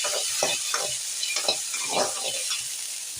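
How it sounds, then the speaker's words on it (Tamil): Steady sizzling hiss of okra frying in a teaspoon of oil, with scraping stirs at a regular pace, close and fairly loud throughout. "வெண்டைக்காய் குழம்புல போடுறதுக்கு முன்னாடி ஒரு டீஸ்பூன் எண்ணெய் ஊற்றி அந்த நல்லா ஃப்ரை பண்ணி எடுத்துடணும்"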